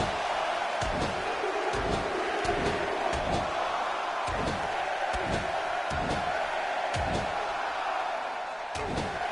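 A wrestling video game crowd at a Summerslam event, a dense, steady roar of arena noise with repeated heavy thuds and slams landing at an irregular rhythm, continuous throughout.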